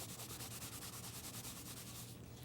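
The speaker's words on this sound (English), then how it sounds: "Apply the stain stick, and we'll try to rub it off." Rubbing an ink stain off an untreated cowhide sample: quick, rhythmic back-and-forth scrubbing strokes, steady and close but quiet, with no talking.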